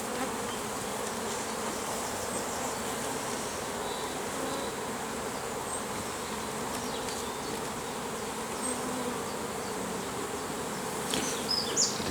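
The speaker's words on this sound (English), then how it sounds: "there's a lot of bees" Dense, steady buzzing of many honeybees swarming around an open hive with natural comb on a bee farm, close and continuous, with a few louder wingbeats passing near the end.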